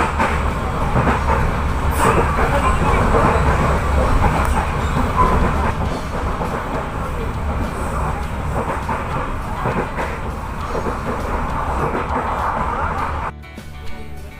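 An economy-class passenger train rolls steadily along the rails near Purwakarta, a continuous dense rumble with light rhythmic clatter and faint squeals, cutting off abruptly near the end.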